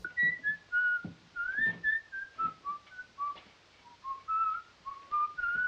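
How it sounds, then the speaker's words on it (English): A person whistles a wandering, slow tune alone, each note distinct and clear, with soft breaths and small gaps between phrases. "Knock off the whistling"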